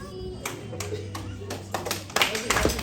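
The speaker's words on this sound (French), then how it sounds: "Applaudissez encore, applaudissez." Guests at a graduation party celebrating a daughter's high-school diploma clap in several short bursts, with a sustained background hum, building to louder, denser applause near the end.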